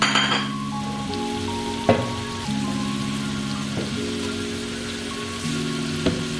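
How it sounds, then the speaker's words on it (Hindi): Chicken karahi frying in a pan with ground onion paste, a steady close sizzle and crackle running throughout, with occasional utensil knocks and a tonal hum in the background. "इसे मैं फ्राई कर रही हूँ"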